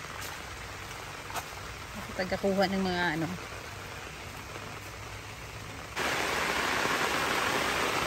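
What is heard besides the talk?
heavy rain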